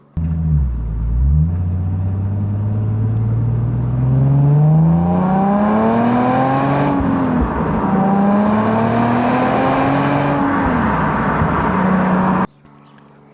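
Infiniti M35h hybrid saloon accelerating hard in gear, engine note climbing steadily through two long rising pulls with a brief dip between, loud and close from inside the car, ending abruptly.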